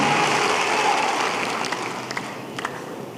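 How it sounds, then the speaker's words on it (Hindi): A Hindi-speaking talk audience claps as asked: a broad, continuous wash of applause that thins out over a few seconds, with a few louder individual claps near the end. "मैं एक बार क्या आपकी तालियां सुन सकता हूं?"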